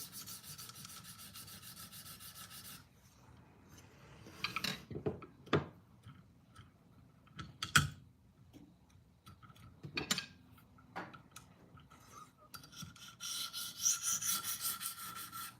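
A blade being sharpened on a 300 grit stone makes intermittent back-and-forth rasping strokes with a few sharper scrapes, fairly close, with no talking.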